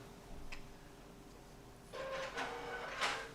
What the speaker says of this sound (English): Oh, I hear the printer going.